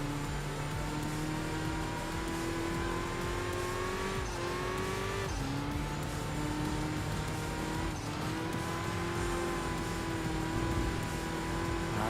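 A Nissan Silvia's racing engine drones loud and continuous in the Enthusia Professional Racing video game, pitch rising through each gear and dipping at shifts and brief braking, with faint tire scrub beneath.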